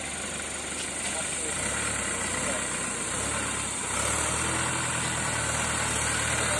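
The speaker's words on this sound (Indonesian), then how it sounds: "Ini adalah traktor yang kita gunakan." An agricultural tractor used for tilling land idles at a campus site with a steady, low, throbbing rumble that grows slightly louder midway, under some background voices.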